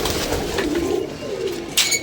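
Pigeons coo in low, rolling murmurs over a steady outdoor background, ending with a brief brighter burst.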